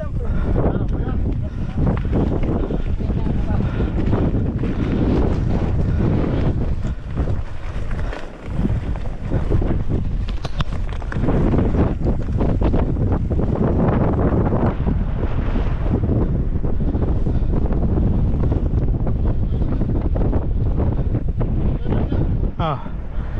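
Strong wind buffets the microphone throughout, a loud continuous low roar with gusts during an outdoor holiday ride and jump session, and voices are faintly heard beneath it.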